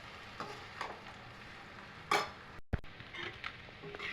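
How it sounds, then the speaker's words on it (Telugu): A puffed rice mixture is stirred in a pan, with soft scraping and a faint sizzle under scattered clinks of a spoon against metal, including one sharp knock near the middle. "చక్కగా కలుపుకోండి."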